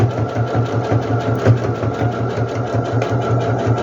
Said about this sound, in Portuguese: faço o pesponto